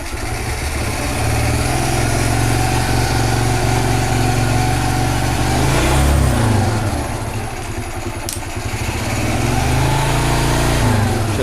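A G-Moto Cross X Pro scooter engine idles close by, running without its air filter, with a steady, loud buzzing putter that rises slightly midway and then settles again.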